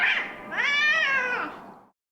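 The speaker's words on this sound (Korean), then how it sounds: "길고양이들이 묘한 기운을 풍기더니 도로 한가운데서 싸움을 시작합니다" Stray cats fighting in the middle of a residential street give out a loud, drawn-out yowling caterwaul that rises and then fades out, heard close with no talk over it.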